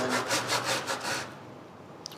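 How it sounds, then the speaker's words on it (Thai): Hand saw cutting through wood for guitar sides, steady back-and-forth rasping strokes for about a second before stopping, leaving quiet room tone. "ค่อยๆทำไปโดยใช้เลื่อยนะฮะ"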